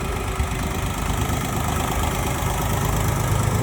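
A Jinma 244 tractor engine idles steadily, a low, even rumble with a constant throb that neither rises nor falls, close by and without any voices.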